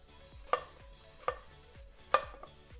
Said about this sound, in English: So I'm gonna cut around the core.